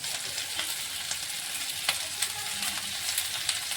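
Mixed vegetables with turmeric and salt fry in a pan for a quick Karnataka-style palya, a steady close sizzle broken by repeated scraping clicks of a spoon stirring.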